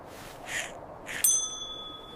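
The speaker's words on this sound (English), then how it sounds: "Bells sound nice with Christmas." A Christmas bell strikes once with a clear ringing tone that fades over about a second, preceded by two soft breathy whooshes, fairly faint and with no talking.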